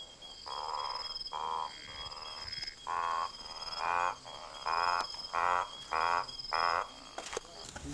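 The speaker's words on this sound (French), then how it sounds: "je voulais que vous entendiez les grenouilles" Frogs croak at night behind a camp in South Africa, a dense chorus of repeated pulsing calls in regular bursts over a steady high insect drone, fairly close and alone without talk.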